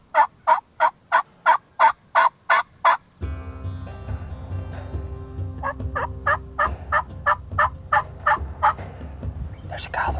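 Rio Grande wild turkeys gobbling outdoors on a hunt, with a rapid run of loud gobbles, then a low rumbling pause, then more gobbles that fade and grow fainter toward the end.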